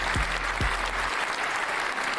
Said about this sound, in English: That's fucking applause for that shit right there.